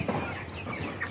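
Tiger chickens on a poultry farm with hundreds of birds cluck in a short, fairly quiet burst of overlapping calls.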